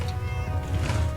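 In Fallout 4, a cat gives one drawn-out meow over a steady low background hum from the game, close and fairly loud.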